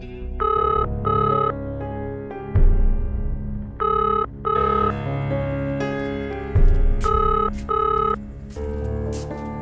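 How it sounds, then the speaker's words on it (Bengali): A telephone bell rings in repeated short bursts in a domestic scene from a Bengali TV drama, loud and close over a bed of background music and low thuds. "আরে ফোনটা বাজছে, ধরো"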